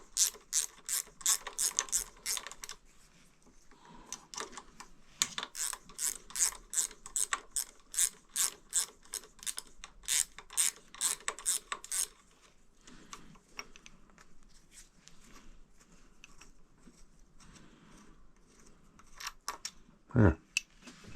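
A ratchet backs out a threaded part on a 1975 Honda XL250, clicking in fast, close runs of strokes that pause and resume, then thin out into scattered clicks and a final clunk.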